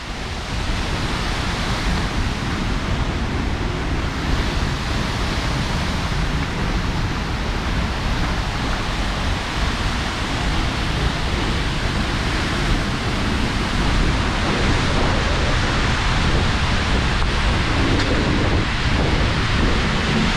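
A waterfall in Iceland, heard from right behind the falling water, makes a loud, unbroken roar of rushing, crashing spray that fills everything with no pauses.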